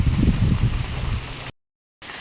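Light rain falls steadily during Typhoon Pepito, a soft continuous hiss with low rumbling, cut by a brief dropout of silence before the drizzle resumes.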